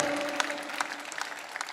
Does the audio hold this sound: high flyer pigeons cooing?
no